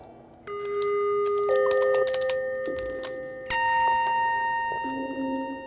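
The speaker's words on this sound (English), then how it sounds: "The Gaussian noise." A short sequence of sustained musical tones run through convolution reverb with a Gaussian noise impulse response, each note trailing into a soft, diffuse noisy wash, fairly quiet and with no talking.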